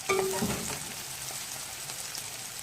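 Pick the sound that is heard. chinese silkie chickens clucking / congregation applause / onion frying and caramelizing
onion frying and caramelizing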